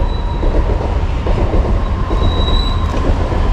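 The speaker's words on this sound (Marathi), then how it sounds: "सॉरी ट्रेन लोकल ट्रेन आहे बाजूलाच लोकल ट्रेन चाललेली" A nearby local commuter train rumbles past steadily in Ambernath, with rhythmic wheel clatter, a continuous low roar and a thin metallic squeal of wheels on rails.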